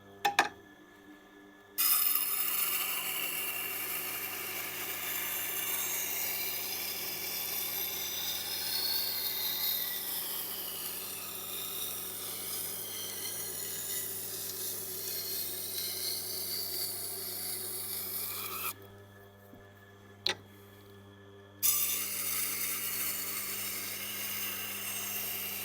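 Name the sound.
knife being sharpened on Tormek 80 grit stone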